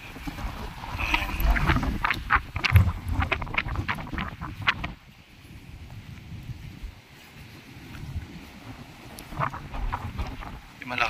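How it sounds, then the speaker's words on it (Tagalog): Gusty wind buffets the microphone outdoors, loud rumbling blasts rising and falling, with faint voices and scattered background sounds. "Malakas yung hangin."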